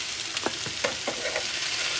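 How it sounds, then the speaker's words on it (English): Green chili chicken with Mexican spices searing in a pan, a steady broadband sizzle with a few soft stirring scrapes, moderately close and without talk. "We're going to sear it, and this is going to cook seared with the lid on it for about 15 minutes."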